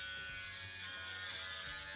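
An electric razor buzzes continuously while shaving a head, a close, steady whirring drone with slight changes as it moves over the scalp.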